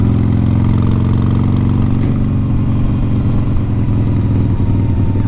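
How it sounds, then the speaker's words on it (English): A 2009 Harley-Davidson 883 Sportster engine runs steadily and loud up close, a smooth, continuous low rumble with a fixed pulse throughout and no voices. "The bike sounds good, runs good, very smooth."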